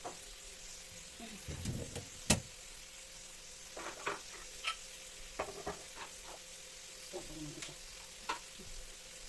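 Pancit bihon fries in a pan, with a soft background sizzle broken by scattered scraping and stirring clicks and taps at irregular intervals, fairly quiet and without talk.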